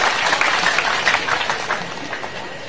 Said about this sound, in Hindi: दोनों हाथ ऊपर उठा के ताली बजा के स्वागत कीजिए